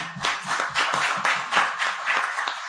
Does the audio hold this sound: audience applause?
yes